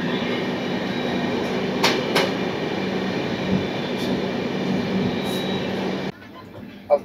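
A train runs through Kolaghat railway station in the evening without stopping: a steady, loud rolling rumble with rail clatter and a few sharp wheel squeals, which drops away abruptly near the end.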